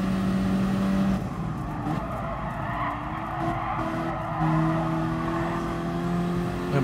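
Race car driven flat out in the video game Gran Turismo Sport, a GR.4 class daily race, with sustained engine drone, rising pitch and tire skidding and squealing through corners, close and loud.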